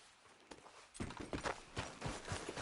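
Horse hooves clip-clop at a steady walking pace in Red Dead Redemption 2, faint at first and then a clear, even rhythm of close hoofbeats.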